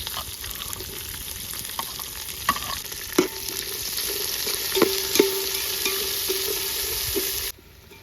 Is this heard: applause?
no